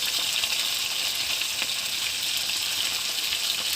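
Food fries in a pan with a dense, steady hiss and crackle at close range, continuous and even throughout, with no talk.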